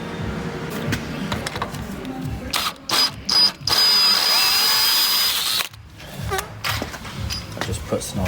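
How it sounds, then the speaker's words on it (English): A drill whirs up and runs steadily while cutting a counterbore in a part for a Lamborghini Murcielago LP640 manual conversion, with short bursts before one sustained cut, ratcheting clicks and someone talking around it. "I just need to put the counterbore in it as well"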